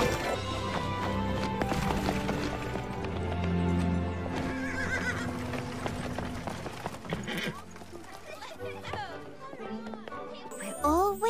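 Cartoon winged horses whinny and neigh over quick clip-clopping hooves, loud and close, with a voice and music mixed in and a jingling sound.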